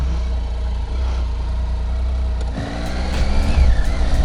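A Triumph Tiger 800 XCA motorcycle engine runs steadily with a low rumble, then revs rise and fall as it pulls away, loud and close.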